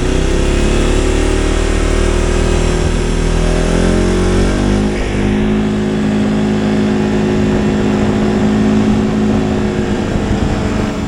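An Arctic Cat Alterra 600 ATV engine drones loud and close while riding, holding a steady high-pitched note that shifts and climbs smoothly as speed changes, with no talking.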